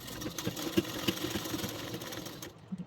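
A sewing machine stitching a half-inch seam joining blouse shoulders, a quick close mechanical whir with a couple of sharp clicks, running about two and a half seconds before stopping abruptly, no talking.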